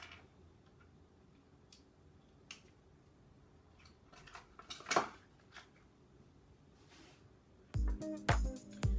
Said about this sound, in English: I'm going to add 1 teaspoon to this. And we're going to stir that around as well